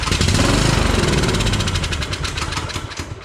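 A Cub Cadet lawn tractor engine fires and runs loudly after a carburetor clean, a steady rough, throbbing roar held close throughout.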